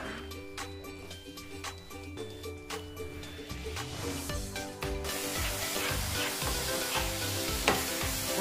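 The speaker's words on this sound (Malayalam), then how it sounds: "വെച്ചിട്ടാണ് നമ്മൾ ഇത് ഇളക്കി കൊടുക്കേണ്ടത്" Okkara, a Diwali sweet, is stirred in a hot pan, a steady close sizzle with scraping strokes of the spoon that grow busier and more rhythmic partway through.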